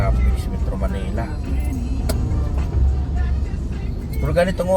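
Congested traffic in Metro Manila gives a close, continuous engine rumble with brief surges from nearby vehicles, while voices chatter over it.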